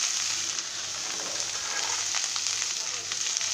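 Peas frying in a pan with cabbage for a cabbage curry make a loud, dense, continuous sizzle, with soft scraping stir sounds rising now and then.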